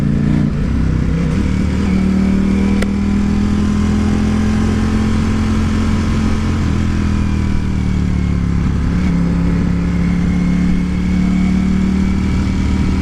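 A Ducati Panigale V4 S motorcycle engine rumbles and revs steadily while riding on the road, loud and close with a sustained droning pitch that shifts slightly and rises, with wind noise throughout.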